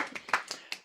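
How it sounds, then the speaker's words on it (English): A few scattered handclaps ring out at a demo day on governance and the future of organizations, a brief, sparse round from a small group, close and fairly clear. "we do rounds of applause now."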